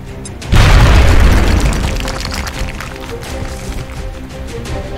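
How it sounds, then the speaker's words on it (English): A loud, close grenade blast in X-Com: Enemy Within bursts with a heavy boom, then fades into a long rumbling tail with faint scattered noise. "So Green runs up and throws the grenade that might save her life."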